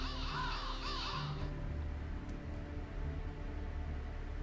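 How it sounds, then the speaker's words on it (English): Crows cawing in the Fate/Grand Order game, a few harsh wavering caws over steady ambient background music, then the calls stop and only the music continues. "The crows are calling."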